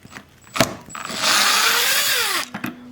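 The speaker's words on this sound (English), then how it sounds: "We're going to take these 4 screws off." A power drill backs out a screw from an overlay cabinet hinge: a brief whir, then about 1.5 seconds of steady motor whine that winds down, with small clicks and handling before and after, close and clear.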